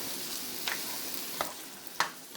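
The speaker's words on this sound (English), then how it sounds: "I'm just going to cook this up until it browns a little bit" Ham frying in a little vegetable oil in a pan, a soft continuous sizzle heard close but quiet, broken by three sharp pops or spatula taps spaced under a second apart.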